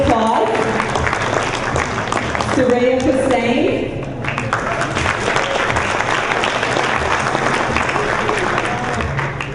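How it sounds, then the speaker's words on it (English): Audience applause at a 20th anniversary event, a full crowd clapping continuously while a presenter briefly speaks a name over it. "A round of applause."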